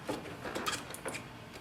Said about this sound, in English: So you may hear a little lock sound.